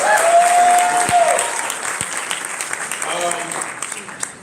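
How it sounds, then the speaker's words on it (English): Audience applause at a symposium luncheon, a crowd clapping steadily at first and then thinning out, with a tonal note near the start and a few louder claps later. "please give him a round of applause"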